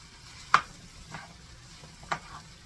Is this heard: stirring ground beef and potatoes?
yes